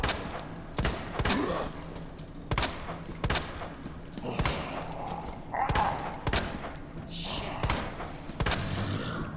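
Gunfire from the video game Resident Evil 2: sharp, loud shots come in an irregular series of about a dozen. Some are spaced apart, some follow close together, with faint breathing and movement between them.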